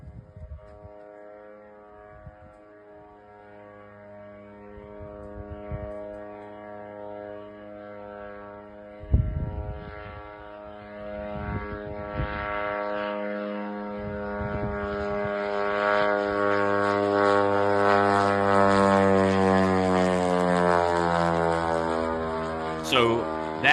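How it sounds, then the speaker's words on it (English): A drone flying toward the Nizhnekamsk oil refinery in Tatarstan, a steady propeller-engine drone with a rising harmonic whine that grows louder and nearer over the run, with a few thuds along the way. "that's apparently one of the drones that hit the oil refinery in Nizhnekamsk"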